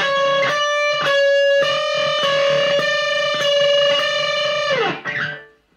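A distorted electric guitar plays sustained, bent notes from a song, loud and sustained with rhythmic picked accents before bending down and fading out at the end, with no voices.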